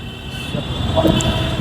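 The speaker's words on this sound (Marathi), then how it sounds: "बघा ट्रेन कशी चालली साईडशी" A train rumbles past close by on the roadside in Mumbai in a steady, loud roar with a faint high whine on top.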